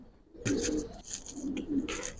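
A pair of giribaj pigeons gives two quick, throaty coos close up, each a short rolling burst, with brief quiet before and between.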